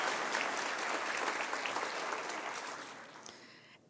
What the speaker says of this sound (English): so let's also give them a round of applause.